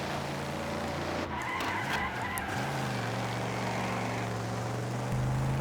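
Racing video game car engine drones with a steady low tone, joined by tyre skidding and squealing as the car slides, all loud and close with no talk.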